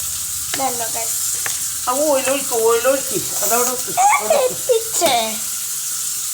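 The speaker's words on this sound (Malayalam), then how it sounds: "ഇനി നമുക്ക് എണ്ണ ഒഴിച്ചു കൊടുക്കാം." Oil going into a heated pan to fry banana stem, a steady close sizzling hiss that runs through the whole stretch beneath continuous talking.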